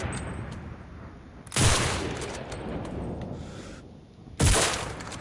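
Gunfire in the video game Enlisted: two heavy, separate shots about three seconds apart over a quiet background hum. No talking.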